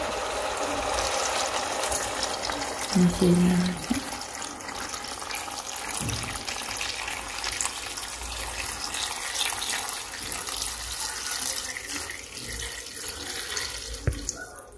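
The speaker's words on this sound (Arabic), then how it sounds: "دابا غادي نزيد الماء غادي ندير الماء اللي هاد نصب" Water poured into a pot of chicken and vegetable soup, a steady close rushing splash that runs without pause, with a few faint metallic clinks.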